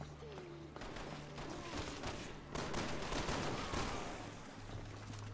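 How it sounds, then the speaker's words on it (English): Rapid gunfire bursts in the video game Resident Evil 6 during co-op play, crackling volleys of shots that grow denser and louder partway through, with a player talking over them. "Oh, we were both shooting at it."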